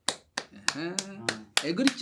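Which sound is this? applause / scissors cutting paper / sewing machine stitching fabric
applause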